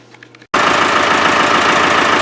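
A Land Rover 300Tdi diesel engine bursts into loud, continuous running after a short quiet moment, its fan turning with a steady, rough mechanical drone close by.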